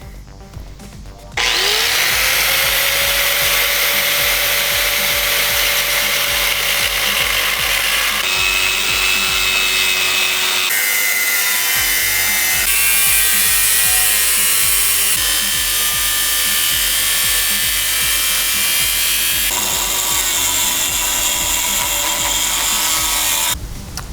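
A power cutting tool slices a line along the bottom strip of a 2015 Jeep Wrangler JKU during a rear bumper installation. It whines loudly and close for about twenty seconds, its pitch stepping and shifting as the cut goes on, with no talk.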